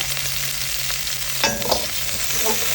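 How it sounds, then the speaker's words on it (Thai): Shallots, garlic and red and green chilies dry-roasting in a pan, a continuous close sizzle with a brief clatter of stirring midway. "มีหอมกระเทียมเดี๋ยวเอาไปคั่วค่ะ"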